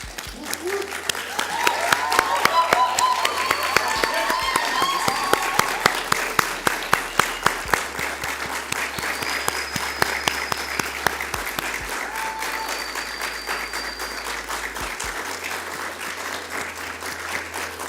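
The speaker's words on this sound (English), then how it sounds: "give these graduates a round of applause" An audience at an occupational therapy pinning ceremony gives graduates sustained, rhythmic applause, many hands clapping steadily at middle distance, with faint voices and cheers mixed in.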